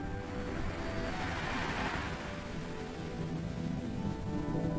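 Rain falls steadily in a beach setting, a soft, even patter and hiss that continues throughout at moderate volume.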